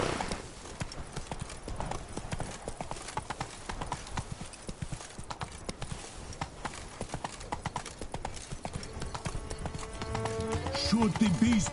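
Roach, Geralt's horse in The Witcher 3, trots with steady clip-clop hoofbeats close by, a faint whinny near the end, insects buzzing in the background.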